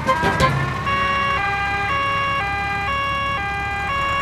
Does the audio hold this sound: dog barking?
no